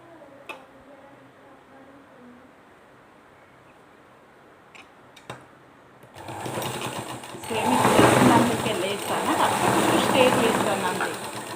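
A sewing machine stitches a blouse hook strip. After a quiet stretch with a few faint ticks, the motor starts up loud and runs steadily to the end.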